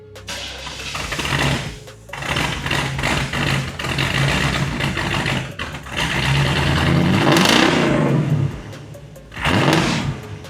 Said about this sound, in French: Donc sympa quand même le son de ce petit V8.